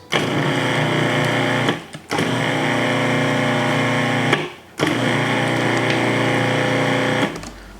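Food processor pulsing dry baking ingredients including baking soda: three long loud motor bursts with short pauses between them, a steady close whine holding a few seconds each time.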